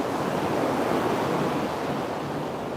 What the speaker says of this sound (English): So the waves are still nice and big today.